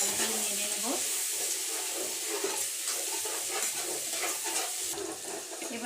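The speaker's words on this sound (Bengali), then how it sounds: "রসুন বাটাটাকে ভালো করে নেড়ে নেব।" Garlic paste being stirred in a frying pan for chicken, a continuous close sizzle with soft scraping strokes of the spoon, no talking.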